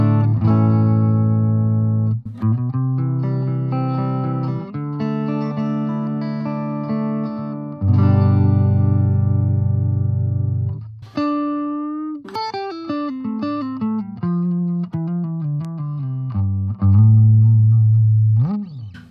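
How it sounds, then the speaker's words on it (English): Fender Telecaster played on the clean channel of a Line 6 Spider 15 Classic amp, bright chords and single-note runs ringing out loud and close, strummed in phrases with pauses, no talking. "So off the bat, it's a pretty good clean tone."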